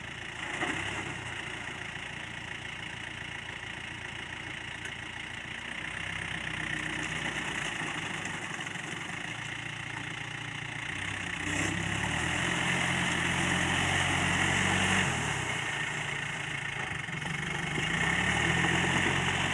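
A Yanmar 51 tractor with a new engine, set up for rotary tilling of wet paddy fields, idles with a steady mid-pitched diesel chug and hum that swells slightly at times, heard close and alone.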